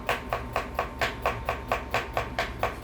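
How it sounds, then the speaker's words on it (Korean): A knife on a cutting board thinly slicing garlic and onion into fine strips, about a dozen crisp, close chops in a steady, even rhythm with no talking. "마늘 2개, 양파 2개도 준비해서 가늘게 채 썰어줍니다"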